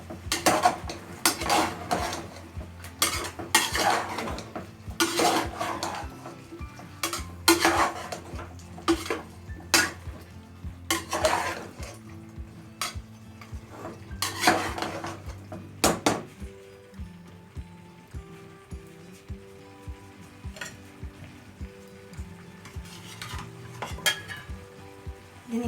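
Metal utensil stirring chicken sinigang in a cooking pot, with repeated scraping clanks and knocks in bursts, then quieter simmering with a few light taps toward the end.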